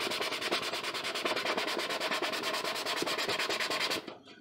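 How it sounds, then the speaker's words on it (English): A sanding block rubs by hand over a DIY Gotham By Gaslight Batman cowl in quick, even back-and-forth strokes, a close, dry rasp that runs steadily and then stops abruptly. "I do use a sanding block. And the hand sanding, it's just to help blend in all the work that I did with the Dremel."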